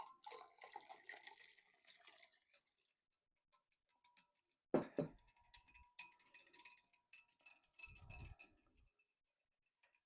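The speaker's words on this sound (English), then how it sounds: "Then we're going to add our cold water." Cold water is poured into a bowl of dissolved Jell-O mixture for a no-sugar berries and cream cheese dessert, giving short splashing bursts separated by quiet gaps, with a heavier splash near the end.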